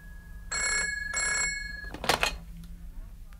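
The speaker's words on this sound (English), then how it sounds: "Would you mind answering the phone, Ewan?" A telephone bell rings twice in close, even bursts indoors, followed by a brief moment of voice and movement.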